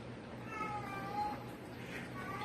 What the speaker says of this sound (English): Y'all hear that cat?